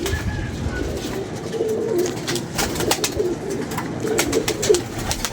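Pigeons cooing among a flock of about thirty birds, repeated soft throaty coos and wing flutters close by, with faint background noise and no talking.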